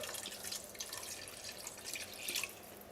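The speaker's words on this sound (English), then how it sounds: "Now we're going to put some water in here, and I just want to barely cover that up." Water poured into a cooking pot of pork pieces for Filipino pork adobo, a steady close splashing and dribbling pour that runs for about three seconds with no talking.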